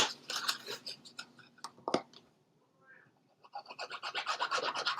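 Paper being folded and burnished for a handmade spellbook-style mini album, close crinkling and scraping rubs in bursts with a quiet pause midway.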